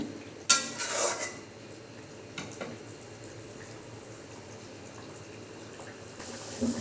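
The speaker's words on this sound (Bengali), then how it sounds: "তো একটু নেড়ে চেড়ে দেবো মাছগুলো সিদ্ধ হওয়ার জন্য" Rohu fish curry with potato, eggplant and drumstick is stirred in a pot, a sharp metallic clank of spoon on pot followed by scattered lighter scrapes and clinks over a faint bubbling background.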